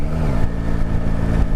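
A Yamaha Tracer sport touring motorcycle engine runs in sixth gear at about 2,000 RPM, a loud, steady low hum with a smooth rolling pulse and wind noise.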